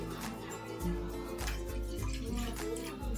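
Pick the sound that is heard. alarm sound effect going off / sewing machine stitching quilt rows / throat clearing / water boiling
water boiling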